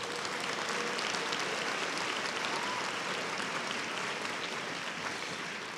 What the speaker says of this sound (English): Let's give them a round of applause again.